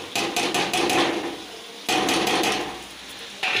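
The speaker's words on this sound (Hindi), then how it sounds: "इसके बाद जो दाल है मूंग की वो इसमें हम डाल देंगे।" Moong dal lentils go into ridge gourd already frying in spiced masala in a pan. Loud, close hissing sizzle bursts in three waves, each one easing off before the next.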